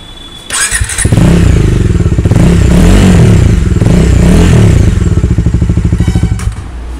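A Bajaj Dominar 250 BS6 motorcycle engine starts and idles with a loud, throbbing exhaust note, revving up and down steadily before settling; close and prominent, no talk.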